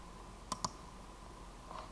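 Two quick clicks of a computer mouse close together, then a fainter third a moment later, crisp and near over a quiet hum.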